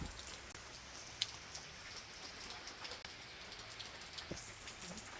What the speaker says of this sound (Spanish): ya empezó a llover de nuevo